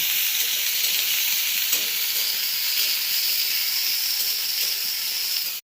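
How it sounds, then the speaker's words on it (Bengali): Potatoes fry in hot oil in a pan for a Bengali banana-stem ghonto, giving a loud, continuous sizzle and hiss that cuts off abruptly at the end. "আলুগুলো দিয়ে দিলাম। ভালো করে ভেজে নেব।"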